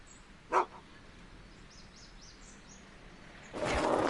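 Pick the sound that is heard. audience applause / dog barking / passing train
dog barking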